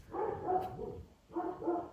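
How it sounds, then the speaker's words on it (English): A pet dog named Pepper lets out two quick barking bursts in a quiet indoor room, a longer cluster followed after a short gap by a second, fairly close and clear. "confirmation from my dog's barking."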